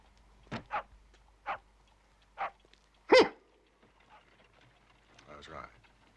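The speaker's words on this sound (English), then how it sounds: "A curly-haired spaniel." A curly-haired spaniel barks several times in short, separate yaps at moderate distance, with a quieter whimpering sound near the end.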